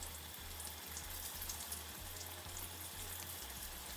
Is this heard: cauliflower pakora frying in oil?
yes